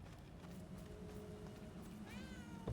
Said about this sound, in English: Oh, I hear another kitty cat.